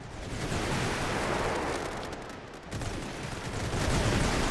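Rifle gunfire at the Gallipoli landings in the game The Great War, heard as a dense, continuous crackle of distant shooting over a heavy roar, steady for several seconds without talk.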